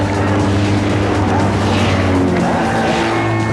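Citroen 2CV cars race in a 24-hour endurance event, their engines making a loud, continuous droning roar with layered tones as several cars pass close by, no voices.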